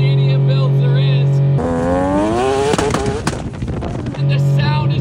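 An 800-horsepower three-rotor Mazda RX-7 idles with a deep steady hum, then revs hard and accelerates with a rising, raspy howl before settling back to idle.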